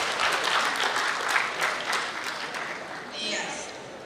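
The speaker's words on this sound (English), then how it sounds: "Please clap for her." Audience applause for a CEO at a pageant event, a short burst of crowd clapping that swells and fades over a few seconds, with a voice briefly heard near the end.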